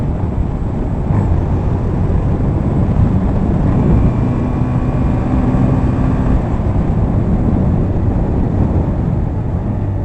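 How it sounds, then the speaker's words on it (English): A manual car's engine hums at steady revs during a clutch downshift, a continuous loud drone with faint tonal whine and no talking. "Now, just slightly let out on the clutch, raise the RPMs to match with that gear."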